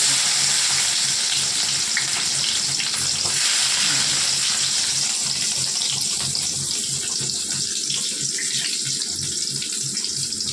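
Steady loud sizzling and crackling of spices tempering in hot oil for tomato pickle, continuous and close, with no talking.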